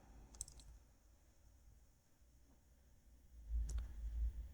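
Faint computer mouse clicks on a laptop or PC, in two quick clusters a few seconds apart against a low, quiet background hum.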